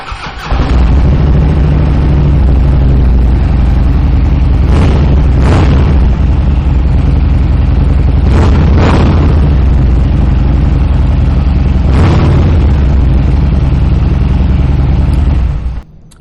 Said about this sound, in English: those Vance and Hines slip-ons add, as I said, just a kind of a nice low grumble to it